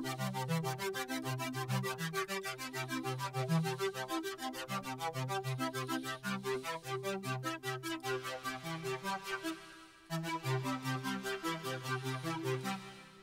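A double arpeggiator synth patch built in Reason 4 cycles fast, evenly pulsing synth notes over a shifting lower pattern, steady and continuous apart from a brief dropout near the end, with no voices.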